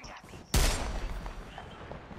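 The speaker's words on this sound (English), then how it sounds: "Bro, he's shooting all the way over here on me." A single loud burst of video game gunfire erupts after a brief quiet lead-in, then a ringing, crackling tail of further shots and sounds continues at lower level.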